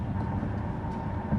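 Steady low road rumble and tire roar inside a moving Genesis G80 electric car on a concrete road, filling the cabin continuously with no talk.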